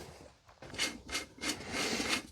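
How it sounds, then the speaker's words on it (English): Rough scraping and rubbing of metal parts as the valve cover comes off a Morris Marina 1.3 engine, a few bursts of rasping friction close by, with no talking. "What you're hearing is me taking the valve cover off."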